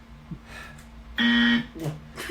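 A podcast segment closes on a short electronic buzzer, a loud flat tone lasting about half a second, with quieter tonal sounds before and after it.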